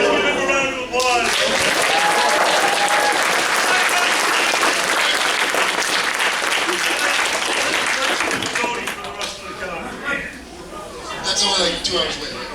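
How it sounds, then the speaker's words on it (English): A convention audience breaks into loud, sustained applause with cheering and crowd chatter, the clapping holding strong for several seconds before thinning into scattered claps and voices near the end. "Guys, give him a round of applause."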